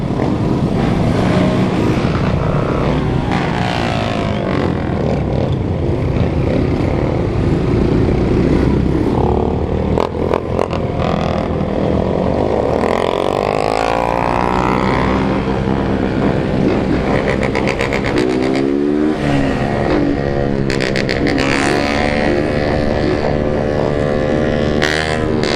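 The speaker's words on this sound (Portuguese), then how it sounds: "Olha o tanto de moto, rapaziada." A large group of motorcycles, most of them 160 cc, rides together through a neighbourhood street, a loud, continuous engine roar with revving bikes passing close and pitch sweeping up and down.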